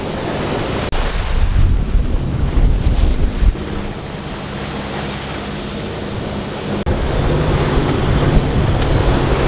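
Wind and waves surround a sailboat at sea in 13 knots of wind against the current, with steady loud rushing wind buffeting close to the mic, surf washing underneath and a few sharp knocks.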